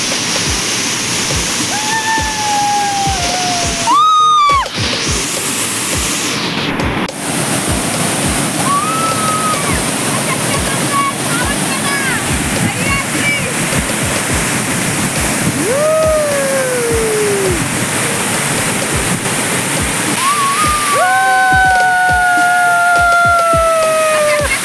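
Sawatkada waterfall near Murud throws up heavy spray, a loud, steady roar of rushing water close by that fills the whole stretch, with a few brief whistles or calls rising over it.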